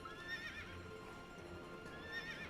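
A horse neighs in the video game Fantasy Life, with two whinnies and hoof clip-clops, heard faintly and alone with no speech.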